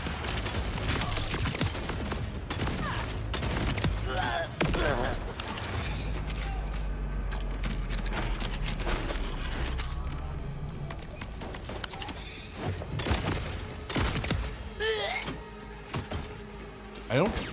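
Enemy gunfire from Borderlands 4 rattles in quick, dense bursts throughout, mid-distance and fairly loud, with a player talking over it now and then.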